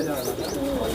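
Pigeons coo steadily close by, their soft repeated calls layered with faint chirps, while someone speaks over them in a loft of fancy breed pigeons, including red pari birds.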